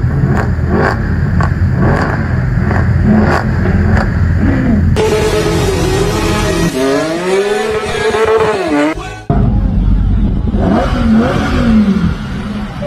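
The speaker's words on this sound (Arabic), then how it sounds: "السيارات الفخمة اللي تدور في شوارع الدار البيضاء" Luxury cars driving through the streets of Casablanca, loud engines revving and accelerating close by, with a high whining pass and shifting engine pitches before the noise cuts and picks up again.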